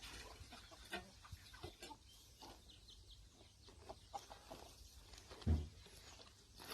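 A native village hen being settled on eggs clucks softly in short, scattered bursts, fairly faint and distant, with light rustling around and no one talking.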